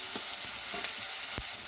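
Chopped onions hit hot oil already holding a bay leaf and whole garam masala, giving a steady close sizzle with a few soft stirring scrapes and no talk.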